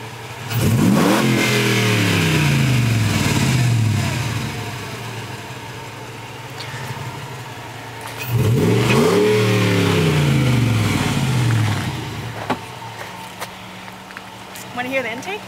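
A 2005 Jeep Grand Cherokee 5.7 V8 with Borla exhaust and 87 octane SuperChips tune revs twice, each throttle blip rising to a throaty roar then settling back to a rumbling idle, close up outdoors.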